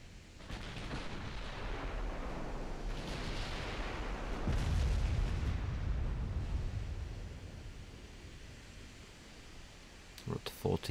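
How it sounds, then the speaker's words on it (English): In a naval warship strategy game, battleship guns fire at an enemy battleship. Heavy, rumbling booms swell and roll over a low wash of sea noise, loud but slightly distant, with small clicks near the end. "Opening up the back guns."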